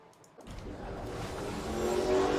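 A loud motorcycle passes nearby, its engine noise building steadily from near silence into a broad roar that grows louder to the end.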